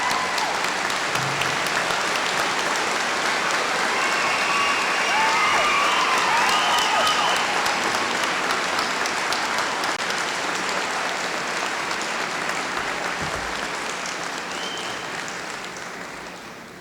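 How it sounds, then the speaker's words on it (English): A large graduation audience in a school ceremony applauds continuously, with some cheering mixed in, a broad sustained wash of clapping that swells and then slowly fades. "Let's give them a big round of applause."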